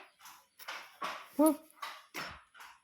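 A voice imitates a dog, giving about seven short barking yelps in a quick series, close and clear.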